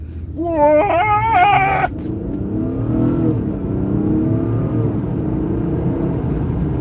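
A twin-turbocharged V6 car launches on a quick takeoff, the engine note rising sharply through a couple of revving pulls before settling into a steady, close, loud drone as it carries on down the road.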